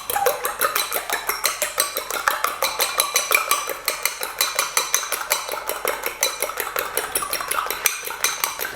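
Two forks work through almond biscuit dough in a bowl with quick, rhythmic metallic clinks and scrapes, a steady busy tapping that continues without a break.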